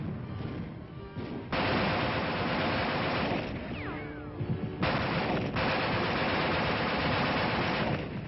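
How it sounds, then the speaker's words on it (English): A weapon firing with ice caked on it in freezing snow conditions, dense bursts of rough, sustained gunfire-like noise broken by short pauses, fairly loud and unaccompanied by speech. "how long will a weapon fire with ice caked all over it?"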